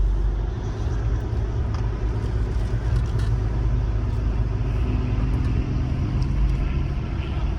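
Steady low engine rumble and road noise heard from inside a Range Rover fitted with a BMW engine as it drives slowly past a car show, continuous and fairly loud throughout.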